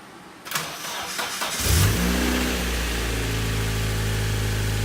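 Nissan S13 with a newly installed turbo cranking briefly, then catching and firing up into a steady, close idle that settles after a short rev.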